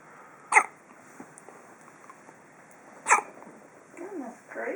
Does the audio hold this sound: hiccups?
yes